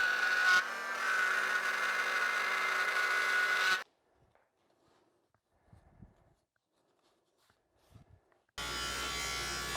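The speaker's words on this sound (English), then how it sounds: "I have built a little jig to route out a slot for the cleat to go, and I'm just using a pattern bit and taking shallow passes" A router with a pattern bit cuts a shallow slot through wood. The loud, steady high-pitched whine runs for a few seconds, stops into near silence with faint handling knocks, then starts up again.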